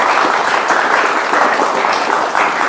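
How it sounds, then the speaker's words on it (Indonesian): A TV talk-show studio audience applauds steadily and loudly for a designer's clothing work, dense even clapping filling the whole stretch without a break. "Tepuk tangan teman-teman buat BHS."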